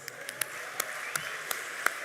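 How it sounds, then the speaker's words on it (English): Light, scattered applause from a small crowd at an awards ceremony, with a few sharp individual claps standing out over a soft background murmur. "We'll give another round of applause"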